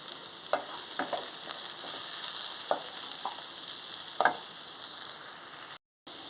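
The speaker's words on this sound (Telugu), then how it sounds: "ఇప్పుడు కరివేపాకు వేసుకుందాం" Curry leaves hit hot oil for a tempering while jowar rava upma is made, giving a close, crackling sizzle with scattered pops, briefly cut off near the end.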